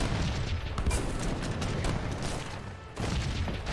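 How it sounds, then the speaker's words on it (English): Gunfire ripping through enemy cannons in the strategy game Age of Empires 3, a continuous rumbling barrage of overlapping musket volleys and booms that holds steady throughout. "Various cannons now getting gunned down."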